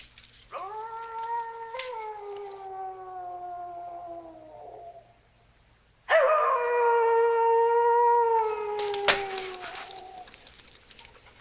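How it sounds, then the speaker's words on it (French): Two long, drawn-out coyote howls at night in a cartoon, each a sustained wavering cry lasting several seconds, the second one louder and accompanied by faint rustling. "Les coyotes ont l'air bien nerveux cette nuit"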